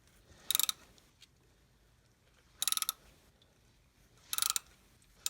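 A ratchet fitted with a cup adapter turns an oil filter loose on a 2007 Chevy Uplander, giving three short bursts of quick ratcheting clicks, each about a third of a second long, separated by quiet pauses.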